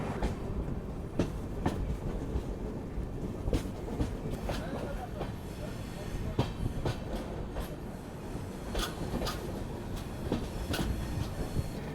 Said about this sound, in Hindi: त्रिवेंद्रम लोकमान्य तिलक नेत्रावती एक्सप्रेस, अब जाके इससे मुलाकात हुई